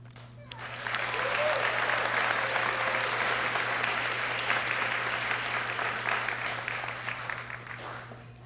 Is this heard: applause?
yes